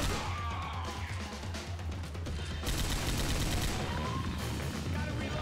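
Rapid gunfire from a Left 4 Dead 2 shooter match, including an AK with a laser scope, crackling steadily and densely across the whole stretch, loud and continuous with no speech over it.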